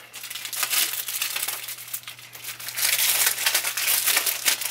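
Plastic packaging for Taito Egret II Mini trackball and paddle controllers being opened, with continuous crinkling and tearing close up, loud and busy from start to finish and no talk.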